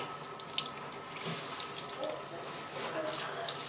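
Water from a tap runs steadily, rinsing hair at a salon wash basin, with a close continuous splashing hiss and small irregular spatters.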